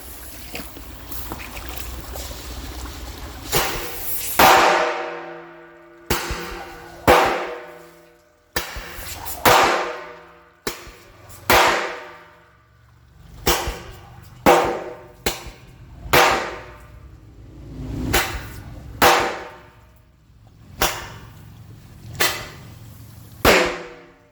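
Fireworks go off one after another inside a culvert pipe near water, each a loud sharp boom with a long booming echo that rings out and decays, repeating roughly every second or two.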